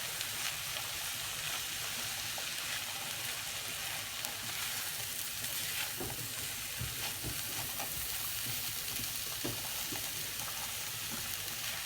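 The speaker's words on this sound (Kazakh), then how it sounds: "Ал осы қуырылып жатқан үстіне біз осындай көк пиязымызды салып жартылай қуырамыз" Green onions and carrots half-fry in a hot pan for funchoza with meat, making a dense, even sizzle throughout with occasional soft stirring scrapes.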